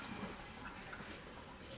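Water rushes in a steady, faint hiss as a brand new water heater tank drains, an even flow with no breaks and no voices.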